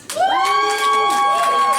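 A comedy show audience cheers and whoops in a loud, close burst of mixed shouting voices that lasts under two seconds.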